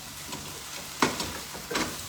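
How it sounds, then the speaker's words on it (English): Sliced mushrooms hit a hot pan for mushroom and onion gravy, giving a faint, steady sizzle with a few sharp clicks and scrapes as they drop in, no talking. "add your mushies. Just some sliced mushrooms. In they go."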